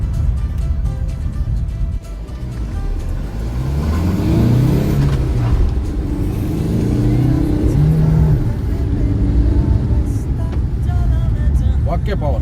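A Mahindra XUV 300 accelerates hard in a drag race, its engine note climbing steadily through the gears, loud and continuous over heavy wind and road noise.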